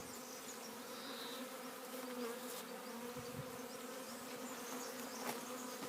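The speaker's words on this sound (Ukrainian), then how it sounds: "Все, бджола вся тут." A steady drone of a honeybee swarm settled in a hive fills the air, constant and fairly close, with no voices.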